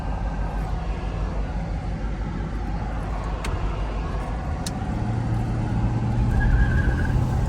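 A 1983 Mercedes 500SEC Euro with a misfire accelerating, a steady engine drone heard from inside the car that swells gradually in loudness toward the end.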